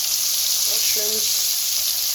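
Mushrooms, asparagus and tomatoes sizzle in a pan with bacon fat, a steady loud hiss throughout, close by, with a brief tonal voice-like blip in the middle.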